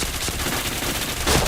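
Gunfire in a shooter video game, a headshot in a match, comes as a dense, loud burst of rapid shots packed into a moment and swelling slightly at the end.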